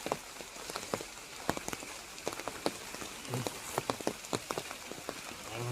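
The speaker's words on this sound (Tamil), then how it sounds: "மழை பெஞ்சிக்கிட்டு இருக்கு" Steady rain falls outdoors, a dense close patter broken by scattered sharper drops hitting a surface throughout, with no voices.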